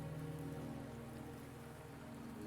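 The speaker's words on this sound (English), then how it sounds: "Don't worry, the rain won't last much longer." Steady rain falls in the game Wuthering Waves, a dense, even hiss with soft layered tones beneath, continuous and fairly quiet throughout, with no voices.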